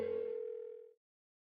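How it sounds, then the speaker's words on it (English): One phone ring tone sounds from an unanswered call in Persona 4 Golden. It holds steady and clear, then fades out after about a second into silence. "Why won't she pick up the phone?"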